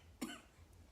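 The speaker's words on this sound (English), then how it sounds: "I'll cough." A single short cough close by, followed by quiet.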